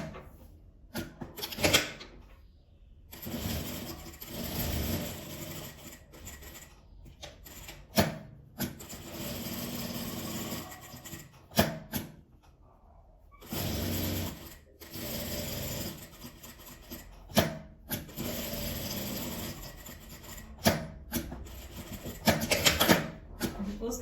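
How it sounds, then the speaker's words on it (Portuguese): Sewing machine stitching all the way around the edge of a fabric-scrap butterfly, running in repeated bursts with short pauses between them. The stitching is close and fairly loud, with clicks and fabric handling mixed in. "agora eu vou passar uma costura, fechando ela toda, bem na beiradinha"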